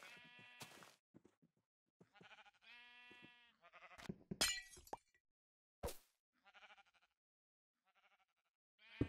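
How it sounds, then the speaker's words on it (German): Blocky Minecraft sheep bleat in a video game, several short separate bleats spaced out over quiet gaps, close and fairly loud, with a few clicks in between. "Ach, warte, hier war doch noch ein Schaf."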